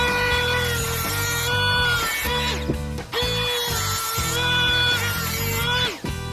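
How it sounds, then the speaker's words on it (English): Dremel rotary tool cutting on an ammo can project, a loud high-pitched whine running in long bursts that briefly dip and stop around the middle and near the end. "So breaking out the trusty old Dremel,"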